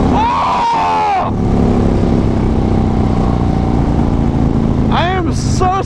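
A Harley 120R Twin Cam motorcycle engine held at partial throttle, a loud steady drone that stays constant for several seconds and is close to the listener. Brief voice sounds come at the start and again near the end.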